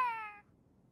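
A single short, clear cat meow sounds close by, sliding slightly downward in pitch and ending abruptly into near silence.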